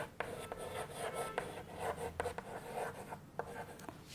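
Pen or chalk writing numbers for a Class III subtraction lesson, heard as a run of short scratching strokes and taps close up, with no voices in between.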